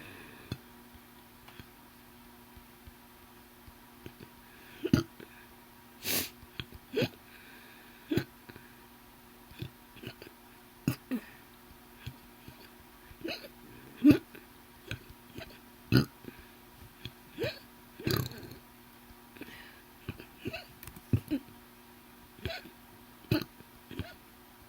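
Repeated hiccups and occasional burps from a person, sharp short bursts recurring irregularly every second or two over a quiet room hum with a faint steady tone.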